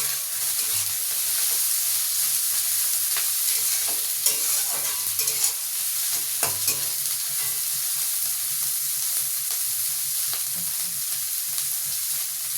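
Vegetables and green peas stir-fried for chow mein give a steady, close sizzle and hiss, with occasional scraping stirs of the pan throughout and no talking.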